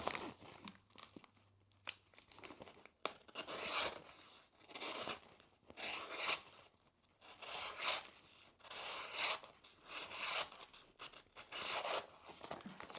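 A cheap Ozark Trail camping knife with a 3-inch blade slicing through heavy duty paper, a series of about eight crisp rasping, crinkling cuts in a rough rhythm, each a second or so long, close and quiet with pauses between.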